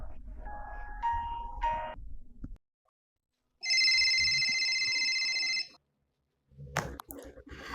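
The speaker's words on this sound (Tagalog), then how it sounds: "Tinawagan niya ang kapatid na si Kams." A telephone rings for an incoming call, a bright electronic ringtone lasting about two seconds between quieter stretches of dramatic music and short silences.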